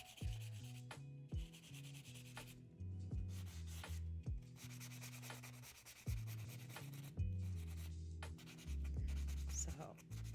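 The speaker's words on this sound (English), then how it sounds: "So I'm just sanding the shoes." Shoes are sanded by hand in repeated scraping strokes, each rub starting and stopping in an uneven rhythm. The sound is close and moderately loud, with only faint background noise between strokes.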